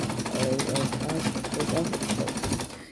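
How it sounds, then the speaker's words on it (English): A sewing machine stitches down Ankara fabric for cargo pants, its rapid mechanical chatter running steadily and close, with a voice talking over it. "Then you take it to your sewing machine to sew it down."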